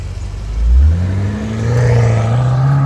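A 2018 BMW M5 F90 with a 600 hp engine accelerating, its exhaust swelling into a loud, rising roar that climbs steadily in pitch as it pulls, heard close with no talking.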